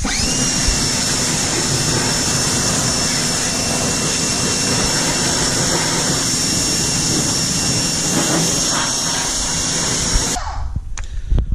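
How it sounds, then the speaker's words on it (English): A pressure washer rinses a very dirty car wheel, tire and fenders: a loud, steady hissing roar of spray and pump runs unbroken for about ten seconds, then cuts off abruptly, leaving a few clanks and knocks. "So let me go ahead and do that with the pressure washer now."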